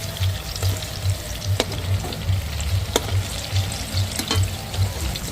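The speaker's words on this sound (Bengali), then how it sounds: "এইভাবে কিন্তু অল্প আছে আস্তে আস্তে করে ভাজতে হবে পিঠেগুলো" Moong dal pitha dumplings fry slowly in shallow oil with a soft, steady sizzle. Faint bubbling runs underneath, and a few light taps of a spatula against the pan stand out. No one speaks.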